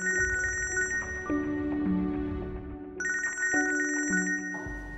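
A phone rings for an incoming call, a bright electronic ringtone melody that plays through, stops and starts again, steady and fairly loud with no talking.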